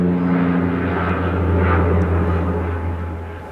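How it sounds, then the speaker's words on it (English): A propeller airplane from Lupa flies over the Everest Base Camp trekking route in Nepal between Jiri and Namche. Its loud, steady engine drone holds close, then slowly fades toward the end. "One of the airplanes from Lupa."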